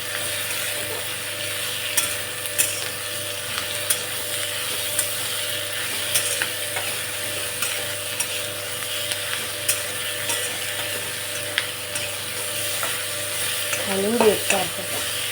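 Okra steams and sizzles in a pan ahead of adding peas, a steady close frying hiss broken by regular scraping and clacking of the stirring spoon, with a brief louder clatter near the end.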